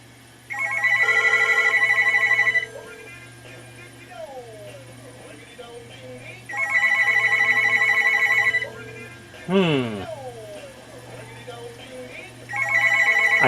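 Telephone ringing from a call placed through an Echo Connect, three bursts of a trilling electronic ring separated by quiet gaps, with a brief clatter and a person talking faintly in between.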